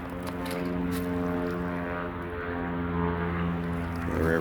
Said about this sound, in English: Another airplane behind us.